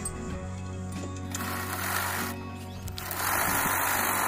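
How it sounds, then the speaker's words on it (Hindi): A sewing machine runs steadily, sewing long basting stitches along a fold of fabric to prepare a hem. Its whirring, ratcheting mechanical hum is close and continuous, with no voices. "इस तरह से कपड़े को फोल्ड करके यहाँ पे हमें बड़े बड़े टांकों वाली सिलाई लगानी है"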